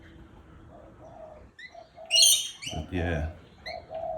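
Small birds chirping and cooing around a garden feeder also visited by parrots, with a brief burst of bright, sharp calls and some soft cooing, a voice speaking briefly between them.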